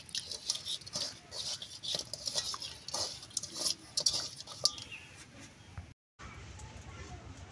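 Hands mix hilsa fish with turmeric, salt and oil, giving wet squelching and soft patting with occasional light clinks of a dish, steady and close, while someone talks over it.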